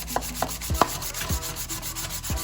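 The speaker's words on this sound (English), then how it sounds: "So now we're gonna get our sanding block here and" Sanding block rubbing back and forth on a Corvette C3 water pump housing surface, close, rhythmic scraping strokes with a light knock at each stroke's end.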